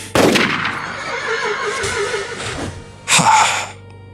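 A horse neighs loudly in an audio drama sound effect, a long whinny with a sharp burst at the start, then a second short, strong neigh near the end over a faint background.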